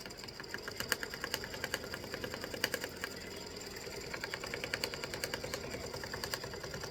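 A sewing machine works an open, wide zigzag stitch with an underlay, steady and close, giving a fast rhythmic mechanical clatter with regular sharp ticks running throughout.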